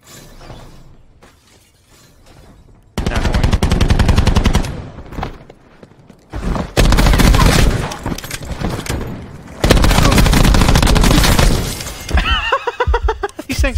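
Dual-wielded guns firing at a very high rate in a video game, loud rattling bursts at close range with short pauses between strings of shots, no talk over them.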